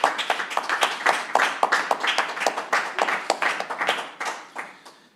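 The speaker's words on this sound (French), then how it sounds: "On peut applaudir et féliciter." Audience applause at a press conference announcing the town of Moutier as 2020 winner of the Bernese Jura municipal ranking; steady, dense clapping from a crowd, moderately close, continuing for the whole stretch with no talk.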